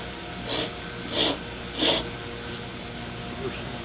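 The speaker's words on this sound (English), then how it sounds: "horseshoe rasp." A horseshoe rasp files leather on a western saddle in three short rasping strokes at about half-second intervals. Faint room noise runs between and after the strokes.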